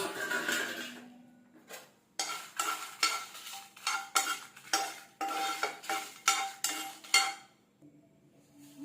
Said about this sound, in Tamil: காஞ்சி மிளகா ஒரு பதினஞ்சு எடுத்து வச்சுருக்கேன் இதை நம்ம சேர்த்து வறுத்துக்கலாம்